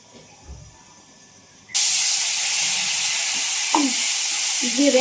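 Cumin, garlic and coconut hit hot oil with a sudden loud sizzle that keeps hissing steadily, with a few stirring clinks near the end.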